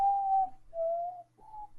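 Someone whistles softly in a quiet room, three sustained plain tones with short gaps between them, the last one brief, faint and alone.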